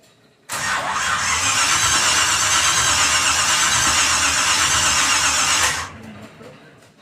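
A 1950 Pontiac gasser's 350 engine cranks and catches, then roars loudly and steadily for about five seconds before cutting off abruptly.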